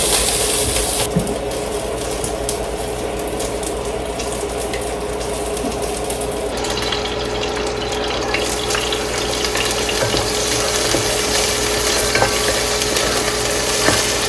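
Garlic and onion sautéing alongside chicken in a home pan while making sopas, a continuous loud sizzle with stirring clatter that stays close and dense throughout, no voices.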